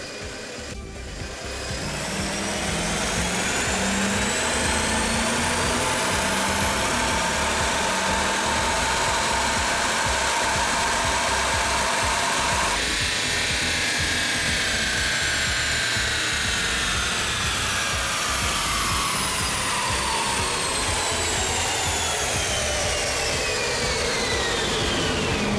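A modified rear-turbo Pontiac G8 engine roars through a dyno pull, building from a low rumble into a loud sustained wail with turbo whine sweeping upward, recorded up close from behind the car.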